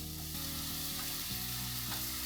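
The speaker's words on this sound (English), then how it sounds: "I'm going to put the shrimp in." Shrimp hit a hot frying pan for fried rice and set off a loud, close, continuous sizzle and crackle that holds steady throughout, with no voices.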